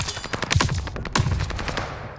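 Gunfire in the Call of Duty Vanguard alpha video game: rapid bursts of automatic shots with sharp cracks, loud and close, firing in quick irregular volleys.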